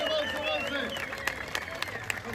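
A crowd claps at a motorcycle club's fifteenth-anniversary birthday gathering in Prilep. A loud voice speaks over the start, then scattered, building claps come through in a looser patter.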